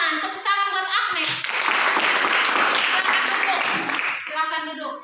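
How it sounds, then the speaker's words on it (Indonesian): A classroom full of people claps together for several seconds, steady and loud, with children's voices chattering before and after the applause. "Tepuk tangan buat Agnes."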